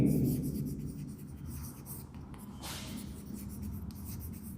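Writing during a Class 9 maths lesson on polynomials, soft continuous strokes of a marker or chalk on a board, close and steady, with faint room hum beneath.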